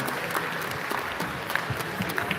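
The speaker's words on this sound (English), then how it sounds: "Let's get a round of applause for playing everything" Applause fills the venue at a FIRST Tech Challenge robotics qualifier in San Jose, an even, sustained roar of many hands clapping with scattered louder claps near the front.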